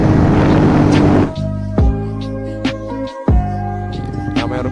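A motorcycle engine revs high, around 7,000 rpm, for a practice launch start; a steady roar drops and the pitch swings with throttle blips, loud and close.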